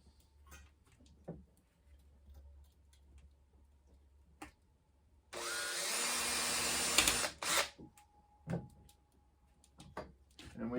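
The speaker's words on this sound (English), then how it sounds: "it's a good idea to drill a hole in this" Power drill boring a hole in a wooden block while making a trowel for a cement bonsai pot, one loud burst of about two seconds amid quiet workshop ticks and small knocks.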